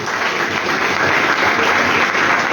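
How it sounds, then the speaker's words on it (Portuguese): A church congregation at a Pentecostal service claps steadily and loudly, the dense applause filling the space without a break. "Palmas bem alegres para Jesus."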